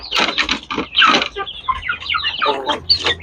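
Two-month-old crossbred Shamo chickens cluck and squawk in a busy, continuous run of close bird calls that fill the whole stretch.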